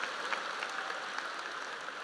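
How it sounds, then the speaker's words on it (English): Graduation audience applause, a dense, even patter of clapping from a large crowd, sustained and fairly faint as if heard from a distance in a big hall. "Let's give Lashlyn a round of applause"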